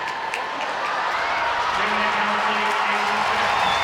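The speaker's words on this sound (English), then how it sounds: "Crowd are loving it." An ice hockey crowd at a Sheffield Steelers versus Manchester Storm EIHL game cheers and applauds, a broad, sustained arena roar under a commentator's voice, with a horn-like tone sounding in short repeated bursts partway through.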